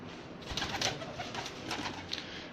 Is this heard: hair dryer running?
no